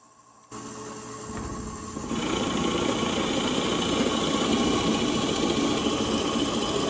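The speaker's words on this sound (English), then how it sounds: "I come back to the shopsmith drill press and I begin drilling out all my mortises once again." A Shopsmith drill press motor kicks on and hums steadily while drilling mortises in wood, then rises to a slightly louder, even whir that keeps running with no pauses.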